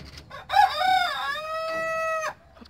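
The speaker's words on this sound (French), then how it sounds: "on a entendu le coq" A farmyard rooster in a French poultry-breeding setting gives a single long crow, moderately loud and drawn out, with faint background noise around it.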